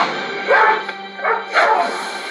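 A dog barks and yips in a TV show scene, a few loud, close bursts spread over a couple of seconds above a low steady background.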